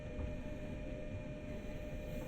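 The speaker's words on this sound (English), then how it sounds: "We're manoeuvring over the points." A train in Train Sim World on the Ruhr-Sieg Nord line rolls over track points, giving a steady, fairly quiet rumble with no distinct beats and no voices.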